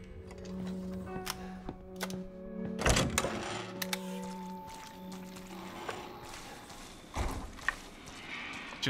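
Weapons are reloaded in the survival horror game Resident Evil 7, giving a series of faint metallic clicks, clacks and ratchety handling noises at irregular intervals over a low, humming game ambience.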